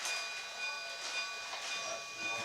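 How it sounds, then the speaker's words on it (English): On the Cumbres and Toltec Railroad, a steam train departs in a short, fairly quiet stretch of steady hissing and rumbling with faint tonal whistling, and no voices. "I believe that means we are taking off on the Cumbres and Toltec Railroad."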